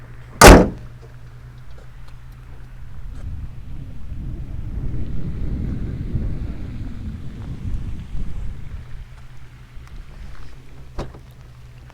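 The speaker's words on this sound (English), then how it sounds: "It has soft closing doors, of course." A 2022 Mercedes-AMG GLS 63 soft-closing door shuts with one sharp, close thud near the start, followed by a low, steady ambient rumble with no voices.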